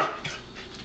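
A Pembroke Welsh Corgi pants quickly and lets out a soft whimper, close by, in a home kitchen during a food taste test.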